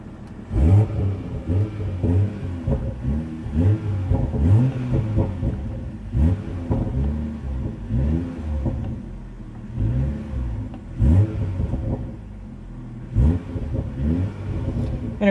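A 2020 BMW M340i engine revs repeatedly from idle, each blip rising sharply and falling back, roughly seven rhythmic pulls close up with a mid-pitched growl and no talking.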